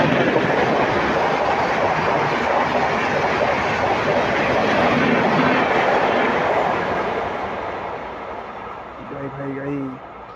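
The 16209 Ajmer–Mysore Express passes close by as a loud, steady rumble with rhythmic clickety-clack of wheels, easing off toward the end while someone talks over it.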